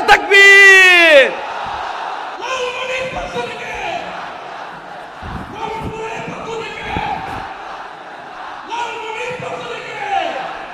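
A large crowd at an outdoor Islamic sermon gathering in Lalmonirhat, Bangladesh roars a unified chant in answer to a single loud amplified call at the start, with the massed voices rising again in waves afterward.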